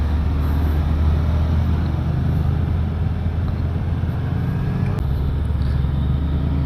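A Suzuki Hayabusa 1300cc motorcycle speeding, a steady loud low engine roar mixed with wind rush, continuous without pause.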